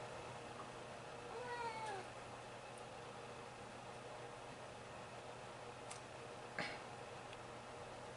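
A cat gives a short, quiet meow or two early on, followed by faint clicks and ticks against a low, steady background hiss.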